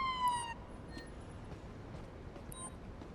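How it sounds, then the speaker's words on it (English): An ambulance siren in the video game Police Simulator: Patrol Officers wails briefly at the start, its rising harmonic tones fading quickly into a steady low rumble of engine and ambient noise. "Ambulance is pulling up."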